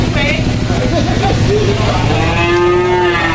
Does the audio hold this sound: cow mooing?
yes